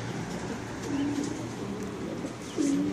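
Young racing pigeons in a loft give low soft coos, one around the middle and another near the end, over steady busy room noise.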